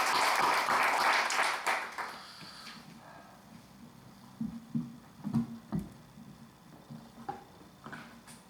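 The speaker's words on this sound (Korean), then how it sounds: "격려 박수 한번 크게 합시다." Church congregation at a Sunday worship service gives a short burst of encouraging applause that quickly fades, followed by a few faint scattered claps and small knocks in a quiet room.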